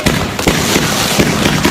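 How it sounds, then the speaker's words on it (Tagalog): Dense New Year fireworks crackle and burst continuously, loud and close, with sharp pops layered over a steady roar of explosions. "ibang klaseng fireworks yan"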